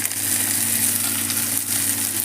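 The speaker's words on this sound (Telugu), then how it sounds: "స్టవ్ ఆఫ్ చేసేసి చక్కగా మనం చట్నీలో మన ఈ తాలింపు వేసేసుకుందాం" Hot oil tempering poured into mint chutney sizzles loudly and steadily, a dense, even crackle that holds without a break, with no voices over it.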